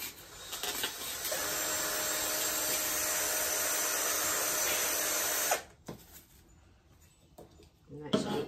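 A power drill enlarging holes in a Dollar Tree Halloween door knocker, a loud continuous high whine for about five seconds that stops abruptly, followed by quieter handling clatter and brief bumps.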